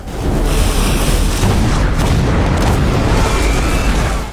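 A giant siege cannon fires with a loud, sustained booming roar that fills the whole stretch, dense and rumbling without a break.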